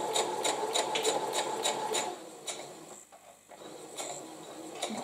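A sewing machine stitches quilt fabric with a fast, regular run of close mechanical clacks that stops midway, leaving a pause before a few more stitches.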